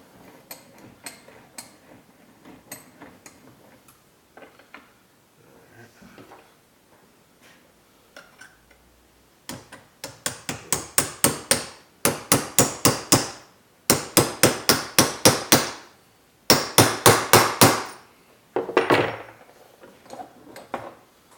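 A rod being hammered out of a CF Moto ZForce 800 front differential held in a vise, first scattered light taps, then rapid loud metallic blows in bursts.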